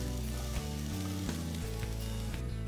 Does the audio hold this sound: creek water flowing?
no